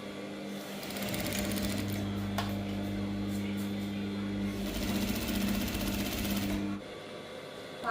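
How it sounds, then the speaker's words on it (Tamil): A sewing machine hums steadily for about six seconds while stitching half-inch darts on a gown, a continuous close whir that stops abruptly near the end, with faint background noise. "அப்போ இதில் அரை இஞ்சி கணக்கில் நான் தையல் போட போகிறேன் அப்படியே அந்த டாக்ஸுக்கு."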